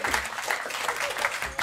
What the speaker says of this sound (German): Applaus für den Chiller